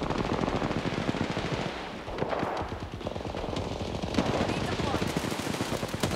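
Rapid automatic gunfire from an Apex Legends–style battle royale game plays in dense, continuous bursts, with people talking over the shooting throughout.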